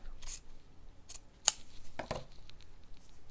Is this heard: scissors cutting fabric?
yes